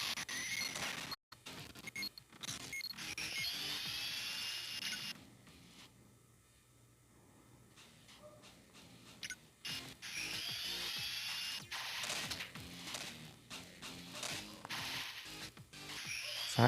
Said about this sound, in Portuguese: Essa broca aqui.